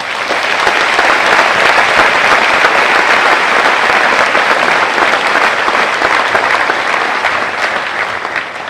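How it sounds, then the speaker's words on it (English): Dense, sustained applause fills a 2018 Kubasaki High School graduation ceremony, a large crowd clapping steadily at full volume from start to finish with no pause. "How about a rousing round of applause for all the families, friends, teachers, coaches, and mentors who have really made this day possible."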